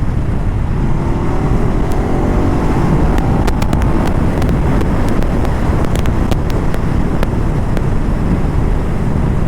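A Ducati Hyperstrada 939 motorcycle revs hard as the throttle is opened, a loud, steady engine roar with wind buffeting the microphone throughout and sharp ticking transients scattered over it.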